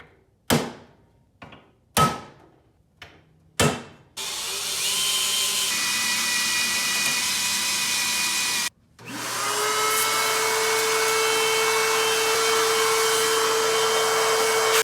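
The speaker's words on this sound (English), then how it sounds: "So you're gonna drill those out real quick, and then I'll mark where the compressor should sit on top of this, drill those holes" Drilling mounting holes in a Jeep TJ to fit an onboard air compressor: a few short sharp bursts first, then a long steady whine that breaks off briefly and starts up again, close and loud.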